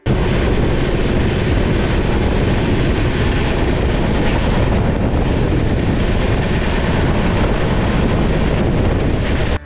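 A passenger train running on rails, heard as a loud, continuous rumble with rattling wheels and carriages. The rumble stays steady throughout and no voices are heard.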